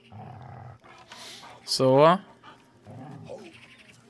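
A dog in Last Day of June barks once loudly and growls in a short, sharp burst, while someone talks before and after it.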